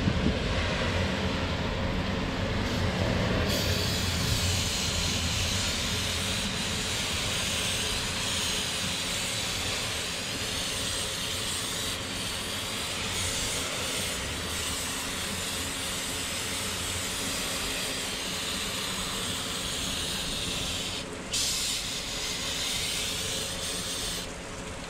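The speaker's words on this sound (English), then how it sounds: "spray the brake cleaner, and try to get all this as clean as possible" Aerosol brake cleaner sprays onto a Honda D16A engine block in a garage with a fan running, a long continuous hiss with short pauses and bursts where the can is released and pressed again.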